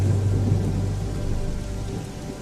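Heavy rain pours steadily while a deep rumble of thunder rolls underneath, loud and continuous as a backdrop for a narrated story, with no voice over it here.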